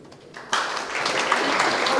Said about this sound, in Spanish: vamos a darle un fuerte aplauso a la maestra Marianela Delgado Reyes